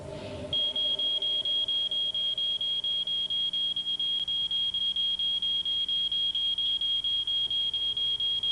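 A fire alarm in a smoke-filled room during a behavioural experiment beeps in a steady, rapid, high-pitched series, loud and continuous from just after the start to the end, with no voices.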